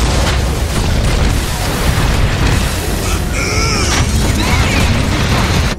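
A tower collapses in a Dota 2 match as a loud, continuous rumble of crashing and booming destruction, with mechanical clatter and brief higher-pitched debris layered over the dense low roar throughout.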